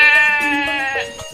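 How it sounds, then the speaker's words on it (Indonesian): A goat gives a single drawn-out, wavering bleat, loud and close, among livestock with goats and cattle at an animal market in an animated cartoon scene. "Wah, kambing sama sapinya besar-besar ya, Be."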